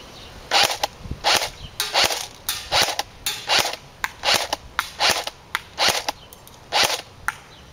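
G&G GR25 airsoft rifle firing 0.25 gram BBs, about eleven sharp snapping shots spaced under a second apart, close and crisp with nothing else heard between them.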